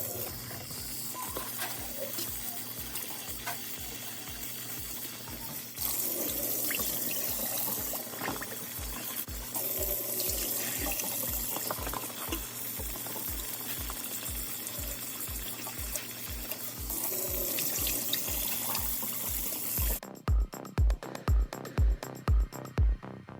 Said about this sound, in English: shake them up a little bit, and then rinse them off.